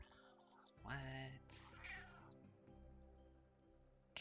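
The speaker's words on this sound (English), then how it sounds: "Cat, what is it?" A cat in the video game Genshin Impact lets out a few drawn-out, whining meows in close succession over a quiet, humming game background.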